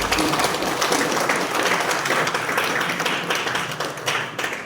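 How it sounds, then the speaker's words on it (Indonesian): Steady applause from the audience at a talk show on Jayawijaya regency's first 100 days of work, dense continuous clapping throughout, close and fairly loud with no voices. "Kita beri aplaus."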